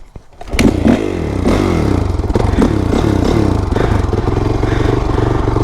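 Honda CRF450R dirt bike engine revving hard and continuously on a hidden wooded track, loud and close, with repeated rising throttle bursts and some clattering.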